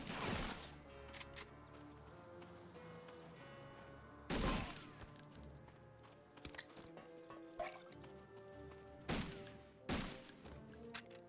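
Gunfire in the World War II shooter game Medal of Honor: Frontline, with several sharp, loud shots spaced a few seconds apart over a constant rumbling battle ambience.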